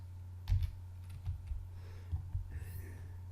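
Soft, irregular key taps from a computer keyboard, quiet and close, over a steady low hum with no talking.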